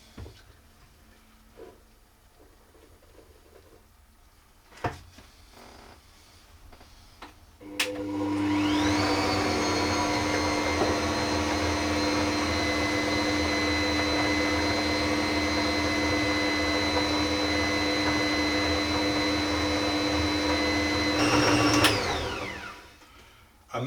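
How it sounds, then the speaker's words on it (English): An Ankarsrum stand mixer churns flour into Swedish caramel cookie dough at medium speed, a steady loud motor whine that starts abruptly after a few quiet seconds and runs without a break before cutting off near the end. "I'm going to put the flour into the mixer and I'm going to mix that on a medium speed until it all forms into a dough"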